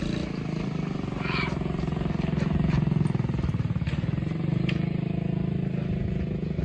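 A TC70 motorcycle engine runs steadily through a wheelie, a close, continuous buzzing drone that swells slightly midway, with faint clatter on top.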